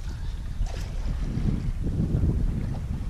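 Sailboat running broad reach under sail at about three knots, a continuous low rushing of water and wind against the hull, fairly loud and steady throughout with no talk.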